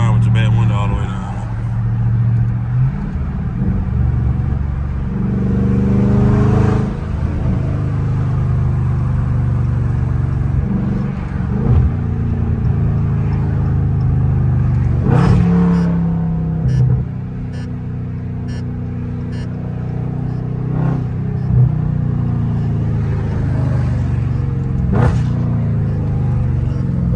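A catless Dodge Charger Scat Pack rumbles loudly through traffic, its engine rising and falling with repeated revs and downshift blips, heard from inside the cabin with someone talking over it.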